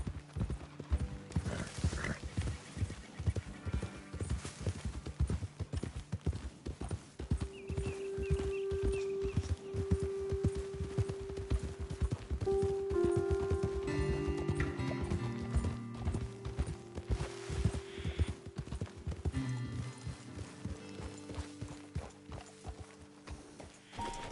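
Horses' hooves clip-clop steadily in the Red Dead video game, a continuous rhythmic trot with occasional snorts and tack rattle over soft tonal game sound, without any talk.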